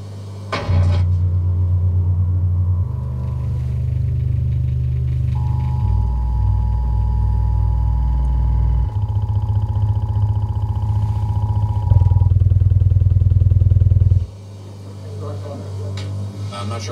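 A subwoofer plays deep bass from the Edge of Tomorrow film soundtrack, a DTS HD track reaching down into infrasonic territory, with heavy, sustained low rumbling in shifting blocks, loud and continuous, ending with a sudden drop.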